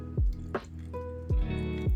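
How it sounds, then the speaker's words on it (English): A little water added to eggs in a bowl for a frittata, several short wet squishing drips and plops, close and alone with no talk. "adding just a little bit of water"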